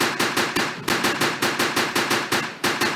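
Rapid bursts of gunfire from a gun in a Roblox superhero game, firing in a steady automatic rhythm of about a dozen sharp, loud cracks with one brief pause, no talking over it.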